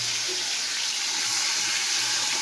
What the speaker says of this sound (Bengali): তেল গরম হয়ে গেছে। তো আমি ঢেলে দিলাম এখানে।